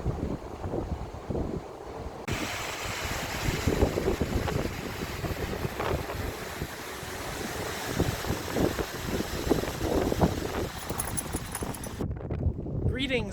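Strong wind at Rowena Point on Oregon's Historic Columbia River Highway buffets the microphone throughout, a loud, gusty rumble with roaring bursts, and faint voices come and go beneath it.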